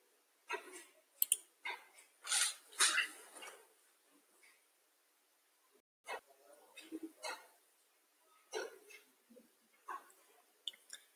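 Sharp computer mouse clicks, a few scattered single and double clicks spread across a quiet stretch, close and fairly faint, while someone sets up a Facebook pixel on an online store platform.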